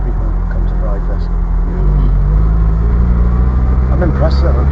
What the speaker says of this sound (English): I'm impressed at how smooth the engine is